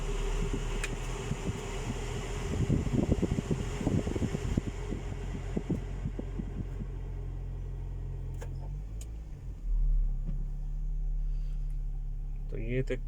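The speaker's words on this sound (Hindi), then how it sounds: "अब इसका हम ब्लोअर ऑन करके देखते हैं" FAW V2 car air-conditioning blower running after five years of use, a steady broadband whoosh that drops in level partway through and then continues as a lower hum, with some speech over the start.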